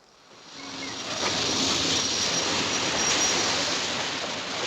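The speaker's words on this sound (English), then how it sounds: "Here's your train." A train pulls into a station with a broad rumbling roar that swells quickly and then holds steady and loud, with no voices heard.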